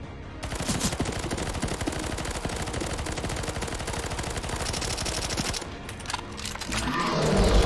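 Rapid automatic gunfire from players shooting a boss in the CS:GO Zombie Escape video game, a dense continuous stream of shots lasting several seconds, with game effects rising toward the end.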